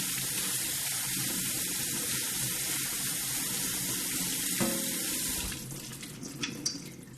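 A kitchen tap runs steadily into a sink while cherries are washed with soap and water, a constant close hiss that drops away near the end into a few light clinks and splashes.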